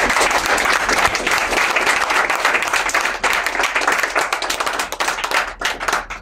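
A church congregation at a prayer camp applauding for Jesus, dense sustained clapping from many hands with a crowd murmur underneath, loud and continuous, thinning slightly toward the end.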